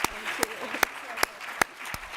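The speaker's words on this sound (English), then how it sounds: "So let's give them one last round of applause." An audience at a talk on independent cinema applauds, a dense wash of clapping with a few sharp, distinct claps standing out throughout.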